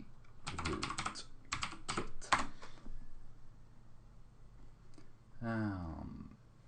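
A rapid burst of clattering keystrokes on a computer keyboard types a Linux terminal command, a dense run of clicks for about two seconds, then quiet before a short spoken phrase.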